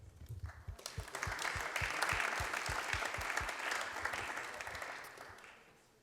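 Audience applause at a public conference on outdoor sports policy swells from a few claps into full, even clapping, holds, then fades away, with low thuds sounding in the opening seconds.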